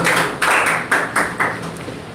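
Several people clapping in a spoken English classroom, a short uneven burst of claps in quick bunches, fairly close and loud, with no talking over it.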